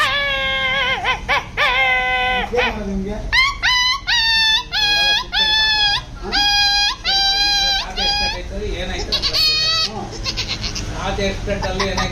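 A man vocally imitates a barking street dog with a rapid series of high, wavering yelps and howl-like barks. They come in close, loud bursts separated by short pauses.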